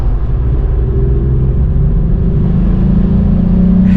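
A red VW Up GTI's small engine hums with a throaty, low drone from inside the car, building slightly toward the end, with no talking.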